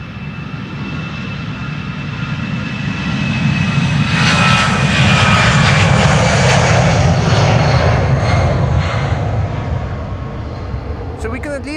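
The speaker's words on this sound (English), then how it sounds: "EasyJet to London Stansted," EasyJet Airbus A319 jet departing Amsterdam Schiphol, a loud engine roar that swells as the aircraft passes close by and then holds steady.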